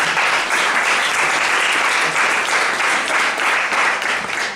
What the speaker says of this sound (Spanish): para los que pido un aplauso porque hicieron un trabajo excelente.